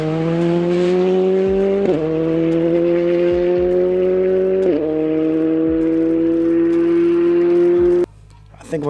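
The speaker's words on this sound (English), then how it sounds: "letting it record along with my new mic all the nice, wonderful sounds of rally cars" Rally cars at the LSPR rally roar past in sustained engine notes with sharp gear changes, loud and close, before the sound cuts off.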